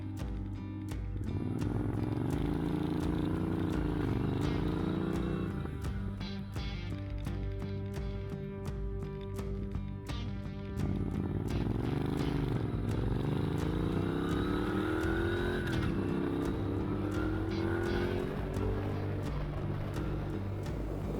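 Motorcycle on a ride through coastal New Brunswick, its engine loud and close throughout as it pulls away and accelerates, with gear changes and rising, falling revs over steady wind noise.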